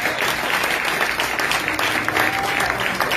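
Church congregation applauding during a French-language worship service, a steady, dense wash of hand clapping that holds at even loudness throughout without pauses.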